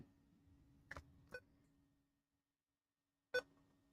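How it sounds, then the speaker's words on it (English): A few short electronic beeps from a laptop under repair on a repair bench sound close by in a quiet room, two near together and one more after a silent gap. "It's beeping."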